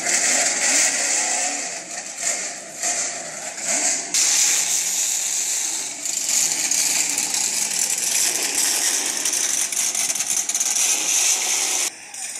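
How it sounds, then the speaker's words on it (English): Cartoon race car engines start and roar together in a loud, continuous buzzing drone with rattling texture that holds for about twelve seconds, with no talking. "drivers, start your engines!"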